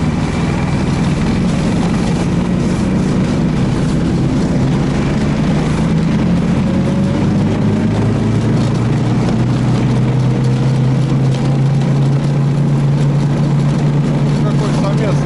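Tofalar 600 Tundra snowmobile, a 2025 model, driving slowly over deep snow, its engine droning loud and steady with rising and falling pitch throughout.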